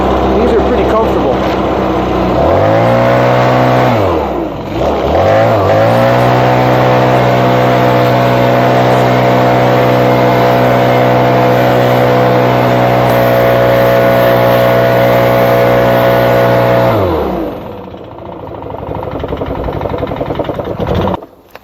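A Stihl BR 600 backpack blower engine revs up, drops briefly twice, then holds a loud, steady high-pitched roar before winding down to a lower idle near the end, close by with talk heard over it.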